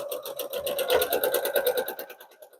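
Sewing machine stitching a small reversible fabric basket made from layer cake squares, a fast even run of close mechanical needle strokes lasting a few seconds.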